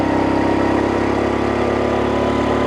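A 50cc scooter engine straining at high throttle on a steep high-altitude ride, a steady buzzing drone with a rough, constant pitch and no voices.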